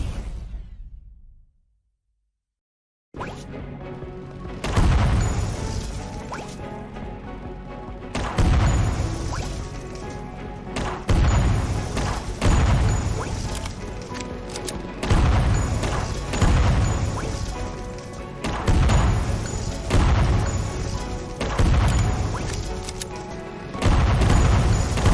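Gunfire and blasts from the retro-style action video game Unmetal come in loud, repeated bursts of crashing booms, closely bunched with brief gaps, after a short silence at the start.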